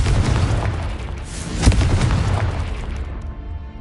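A booming explosion from the Confringo fire spell in Hogwarts Legacy erupts as a single dense burst with a sharp peak, then rolls off and fades.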